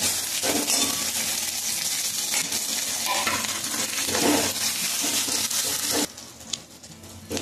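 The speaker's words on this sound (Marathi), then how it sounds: "त्यानंतर लसूण जिऱ्याची पेस्ट होती ती टाकायची। छान असं परतून घ्यायचं।" Garlic-cumin paste sizzles in a hot pan with continuous frying crackle, punctuated by spatula stirs and scrapes against the metal, close and fairly loud.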